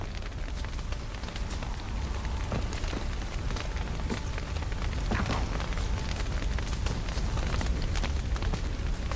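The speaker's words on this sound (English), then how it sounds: "Looks like rain." Steady rain falls in the video game The Witcher 3, a dense even hiss of drops with scattered crackling patters throughout, constant and fairly quiet.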